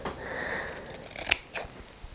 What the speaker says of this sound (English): So now I'm going to trim off around these corners. I think those scissors are about done.